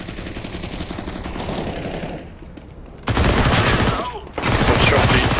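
Rapid automatic gunfire in the video game CS:GO, loud dense bursts that pause briefly twice before resuming, with game sounds underneath.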